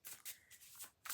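Large, wide cardboard tarot cards being shuffled up close, a few quick riffling bursts of papery flutter and slaps in just over a second.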